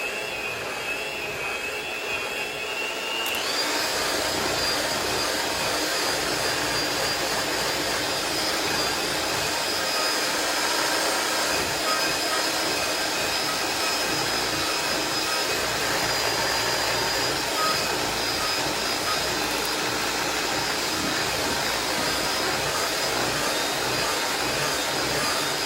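An electric mixer beats thick chocolate cream cheese pound cake batter, starting after a brief quiet moment and then running as a steady, loud, high-pitched motor whine with no talking.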